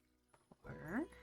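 A liquid pours into a glass in the bartending game Tavern Talk: a short, close, rising gurgle that climbs in pitch as the vessel fills and lasts about half a second after a couple of soft clicks.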